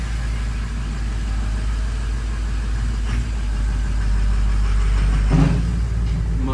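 A Ford 6.0 Powerstroke diesel in a factory race truck runs with a new exhaust, a deep steady idle rumble close by that swells slightly near the end.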